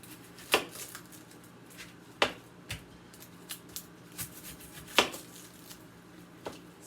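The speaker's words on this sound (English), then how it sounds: "So you want to chop your onion up" A knife chopping an onion on a board, a few sharp, separated cuts with softer irregular scraping and crunching between them, close and moderately quiet.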